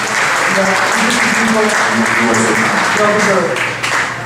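Steady applause from an audience at a Mobile Monday Silicon Valley meetup fills the room, continuous and loud, while someone talks over the clapping.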